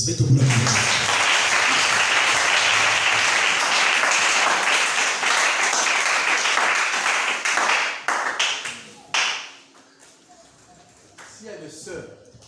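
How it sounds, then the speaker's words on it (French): Audience in a church or gathering breaks into loud, sustained applause and cheering that fills the room for several seconds, then tapers off into scattered claps and murmuring voices. "On acclame."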